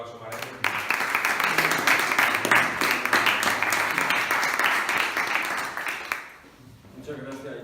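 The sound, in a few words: audience applause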